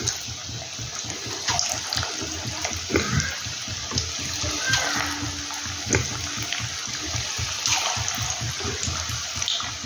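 Cauliflower koftas dropped one by one into moderately hot oil, giving a steady sizzling, bubbling hiss with brief louder crackles through the whole stretch, close and unaccompanied by talk.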